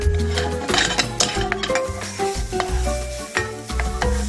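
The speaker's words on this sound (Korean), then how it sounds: "살짝 볶아주겠습니다" Minced garlic and chopped green onion stir-fry in a spoonful of chili oil in a frying pan, giving a close, crackling sizzle broken by repeated scraping and clinking of a spatula against the pan.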